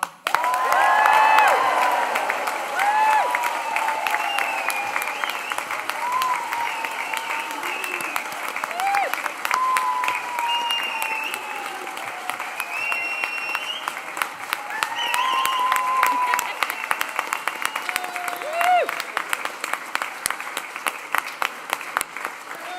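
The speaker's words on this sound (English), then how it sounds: "let's raise the roof with a huge cheer and a round of applause" A large crowd at an allied health graduation ceremony bursts into sustained applause with cheers and whoops, loud and continuous for over twenty seconds with scattered voices rising above the clapping.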